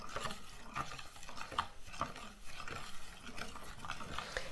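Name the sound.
stirring honey into hibiscus iced tea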